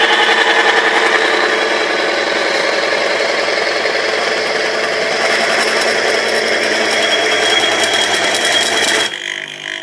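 A Timken bearing friction test machine runs steadily under load, giving a loud, continuous mechanical whir with a fast ratcheting chatter throughout, cutting off abruptly near the end.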